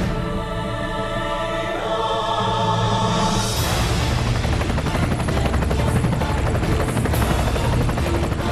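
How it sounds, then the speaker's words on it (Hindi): A helicopter hovers close over a stunt set for the Khatron Ke Khiladi stunt show, Roman rings hanging beneath it. It starts as a rising, rumbling approach, then a loud, steady rotor chop fills the rest of the clip with no talk. "हेलीकॉप्टर आ गया है, आपके सामने है।"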